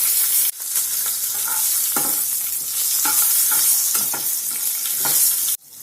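Green chilies fry with a steady, close sizzle in a pan, with regular scraping stirs every second or so and a sudden drop near the end.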